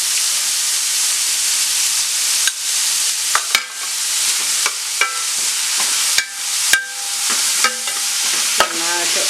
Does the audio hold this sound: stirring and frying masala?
yes